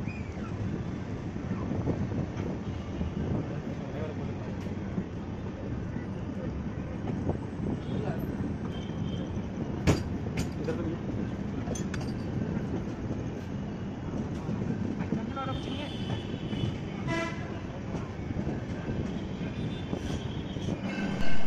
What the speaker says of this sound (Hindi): वापस हमारी ट्रेन अपने जो सफ़र पर है वो निकल पड़ी है।